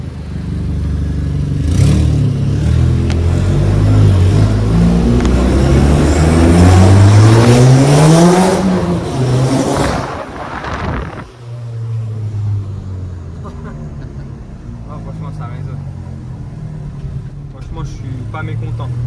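A VW Golf 5 GTI fitted with a stainless steel downpipe revs hard, its exhaust note climbing and falling through repeated loud pulls before dropping to a lower rumbling idle, with people talking over it.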